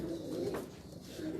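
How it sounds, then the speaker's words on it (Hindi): A tali wala pigeon coos softly on a rooftop, a low, gentle, rolling call heard close by in a quiet setting. "ये टाली वाला कबूतर है"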